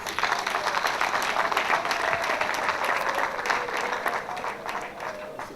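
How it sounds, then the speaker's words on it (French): Crowd at a hospital inauguration applauding Madame Okambo, sustained dense clapping from a large audience, even and continuous, slowly tapering near the close. "joignez-vous à moi pour applaudir Madame Okambo"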